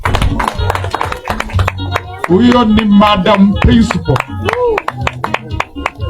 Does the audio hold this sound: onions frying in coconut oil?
no